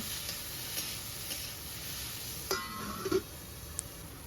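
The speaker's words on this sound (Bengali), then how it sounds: "এখন কুমড়ো আর উচ্ছে মিডিয়াম ফ্লেমে আরও 2-3 মিনিটের জন্য রান্না করে নেব।" Bitter gourd and pumpkin frying in a pan over medium flame, a steady soft sizzle throughout with a few brief stirring clinks and scrapes near the end, no voices.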